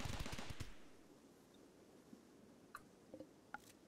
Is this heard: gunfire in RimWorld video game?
yes